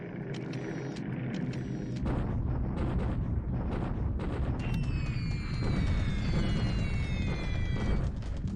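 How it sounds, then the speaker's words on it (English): Anti-aircraft flak firing during an air raid in the war strategy game War in the Pacific, a dense, continuous rumble of booming bursts with whistling tones layered over it, loud and unbroken throughout. "our flak is still firing at some rate"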